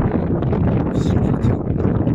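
A northern wind blows on a beach at Paraliya in Vityazevo on a December day, roaring steadily and loudly across the microphone with buffeting gusts and no talk.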